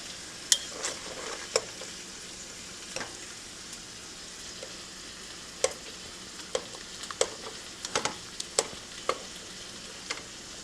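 A whisk works through mac and cheese sauce with shredded cheese in a pot, making intermittent clicks and scrapes against the metal over a soft, steady simmering hiss.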